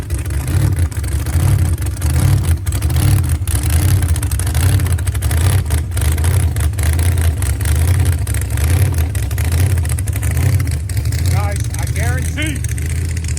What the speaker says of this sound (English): Blown rat rod with the big racing engine.